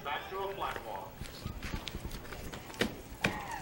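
Horses moving around a show arena give off soft hoof clops and footfalls, with people talking over them nearby.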